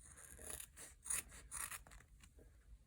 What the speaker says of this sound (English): get a good pair of scissors